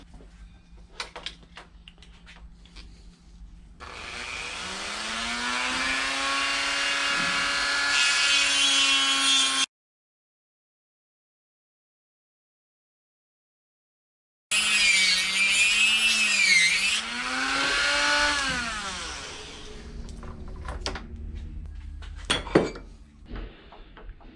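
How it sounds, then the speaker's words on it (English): A Ford Mustang V8 cam gear held in a vise is ground with a power grinder: a loud sustained whine with shifting pitch, a break of silence, then another long grinding pass and scattered clanks of tools afterward. "Do some grinding."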